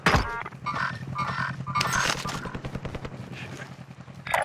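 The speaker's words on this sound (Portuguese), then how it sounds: "Estão atirando em mim!" Video game gunfire, a rapid burst of automatic shots rattling in quick succession, close and loud with a few sharper cracks, while a voice shouts briefly at the start.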